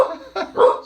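A dog barks in two short, sharp bursts at close range, aimed at a passing mother pushing a stroller with small children nearby, with no talk in between.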